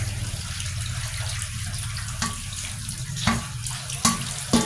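Bitter gourd being rinsed under a running kitchen tap to wash off salt, a steady close gush of water with a few splashes and knocks as the vegetable is handled.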